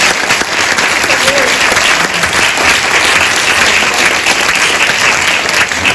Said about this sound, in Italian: vi chiederei un applauso per accoglierlo a Cervia.